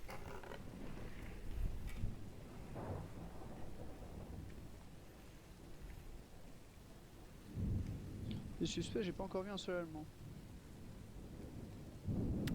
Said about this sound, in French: il y a souvent l'orage en fond